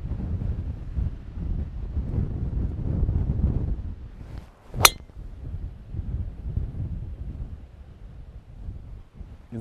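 Strong headwind on a golf course buffets the microphone in a steady, rumbling roar that eases slightly toward the end, broken by one sharp click near the middle.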